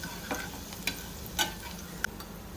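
Lentils frying with turmeric in a pan over a slow flame, a faint steady sizzle with a few light clinks and taps, heard close and without speech.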